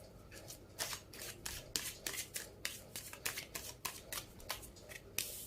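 Tarot cards being drawn and handled during a full moon reading, giving a steady run of crisp, close card flicks and slides with soft rustling between them, about a dozen quick strokes with no talking.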